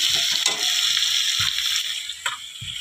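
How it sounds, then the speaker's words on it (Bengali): Fish curry with potatoes and onions simmers in a pan, giving a continuous bright sizzle and bubbling with a few soft clinks, close and steady with no talking. "মাছের ঝোল আলু পেঁয়াজ দিয়ে মাছের ঝোল হচ্ছে"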